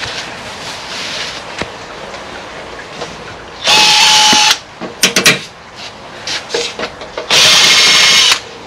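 A power drill backs screws out during a forklift repair, sounding in two sustained loud whirring bursts with short clicks and rattles between them.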